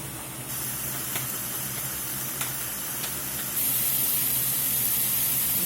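Ground beef sizzles in a hot pan, a steady broadband hiss with a few faint clicks, growing slightly louder and brighter partway through; no voices.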